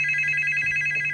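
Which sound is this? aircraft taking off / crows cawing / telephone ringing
telephone ringing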